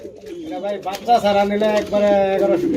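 Fancy pigeons cooing close by, with repeated low throaty coos that overlap into a steady murmuring chorus. People talk in the background.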